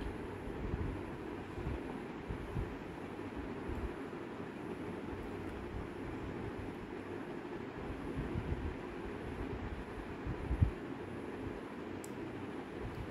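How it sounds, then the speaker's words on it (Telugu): An old railway station carries a low, continuous train rumble and diffuse ambient noise. It is faint and steady for the whole stretch, with one small knock near the end. "చాలా సంవత్సరాల క్రితం కట్టినట్టున్నది రైల్వే స్టేషన్ అది."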